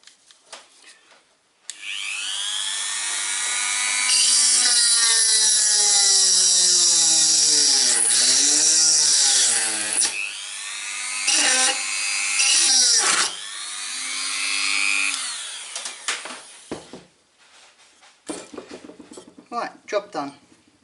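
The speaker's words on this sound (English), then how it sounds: "A little bit more drilling. It ain't come out completely yet." A power drill whines loudly for a long stretch, its pitch dipping and wavering as it drills out metal rivets on a heater cutout switch, then stopping and restarting in shorter bursts with clicks.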